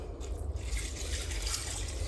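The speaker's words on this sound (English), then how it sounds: "And then you just pour some hot water over them." Hot water poured from a container over dehydrated peas in a larger container, a continuous close splashing and trickling pour that runs steadily without a break.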